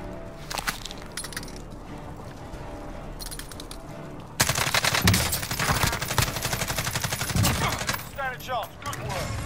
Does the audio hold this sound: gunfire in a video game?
yes